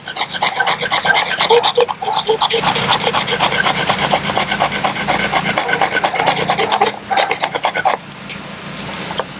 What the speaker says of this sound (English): So we'll scrape a little more here.